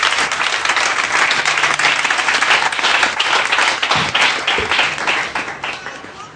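A church congregation applauding, loud sustained clapping from a crowd that gradually thins and fades toward the end.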